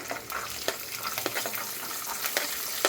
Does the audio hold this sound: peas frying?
yes